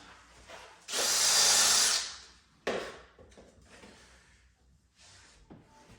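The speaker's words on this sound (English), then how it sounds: "Now I'm going to put a little countersink in these." A power drill whirs loudly for about a second while countersinking screw holes in a wooden newel post and handrail, followed by a brief second burst and faint handling noises.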